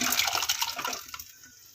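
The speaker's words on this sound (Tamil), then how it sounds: "இன்னும் கொஞ்சம் தண்ணி சேர்த்துக்கலாம் சாம்பாருக்கு" Water poured into a pot of sambar while cooking: a loud, close, splashing gush for about a second that quickly trails off into quieter trickling.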